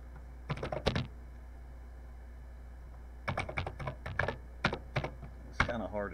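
Bursts of typing on a Texas Instruments TI-99/4A home computer keyboard, close and crisp, with a short cluster of keystrokes, a pause, then a longer run of uneven taps over a constant low electrical hum.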